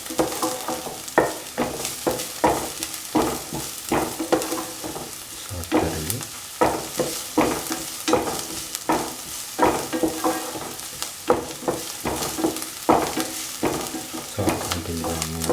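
Onions and spinach rice with green chilies stir-fried in a pan, making a steady sizzle broken by repeated scraping and stirring strokes, close and moderately loud, with no voices.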